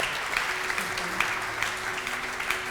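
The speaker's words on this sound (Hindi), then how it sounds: "तो इनके लिए, इनकी हिम्मत के लिए बड़ी बड़ी तालियां, बहुत दाद।" Studio audience applause on a Ramadan television show, a steady wash of many hands clapping at moderate level throughout, with a faint tonal hum beneath.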